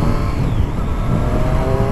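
Triumph Street Triple S 660 motorcycle running on its original exhaust, a dense, loud engine roar held steadily up close, rumbling throughout with no voices.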